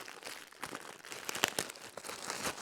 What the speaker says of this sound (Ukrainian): Слідущий пакетик розкриваємо.